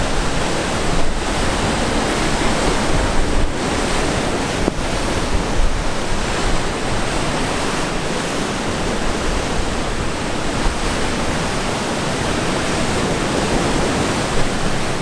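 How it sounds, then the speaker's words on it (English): Rain falls over sea waves breaking on a rocky coast in a dense, steady roar of broadband wash. A few louder surges and gusts of wind noise rise through it, and there is no talking. "Well, it started raining"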